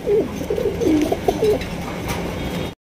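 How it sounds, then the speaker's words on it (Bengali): Hungarian Budapest pigeons on a Bangladeshi pigeon farm cooing, a run of soft, low, rolling coos close by, repeated several times over faint background noise. "হাঙ্গেরিয়ান বিবেক বুদাপেস্ট কবুতর"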